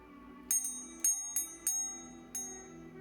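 Bell ringing during a haunted house ghost trick: five sharp bright rings, the first three close together around the first two seconds and one more after a pause, each fading over a steady low background hum.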